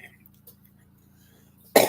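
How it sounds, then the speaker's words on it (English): A single sharp cough bursts out near the end of a quiet room, loud and close, following nearly two seconds of faint low hum. "There's a cough."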